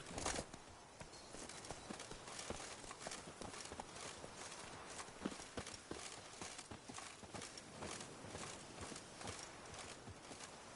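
Geralt's horse Roach galloping in The Witcher 3, rapid rhythmic hoofbeats drumming steadily and close throughout, with no voices over them.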